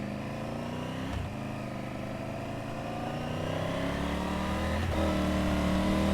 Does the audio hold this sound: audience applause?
no